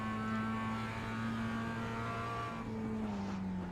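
A racing motorcycle on the Indy road course holds a steady, sustained engine drone that shifts pitch slightly near the end, loud and close throughout, with no talking.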